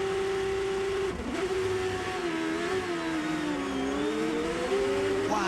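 Onboard a Champ Car at the 2007 Gran Premio de Mexico City, the engine drones close and loud, its pitch dipping briefly then climbing and wavering as the car accelerates, a sustained whining tone throughout.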